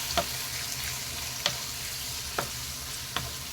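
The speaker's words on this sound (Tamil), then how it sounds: "சிக்கனை சேர்த்துட்டு ஒரு 2 மினிட்ஸ் நல்லா இதிலேயே வதக்கி விட்டுருங்க." Marinated chicken sautéing in ghee with curry leaves for a chicken ghee roast. A soft, close, continuous sizzle is broken by four sharp clinks of a spoon against the pan.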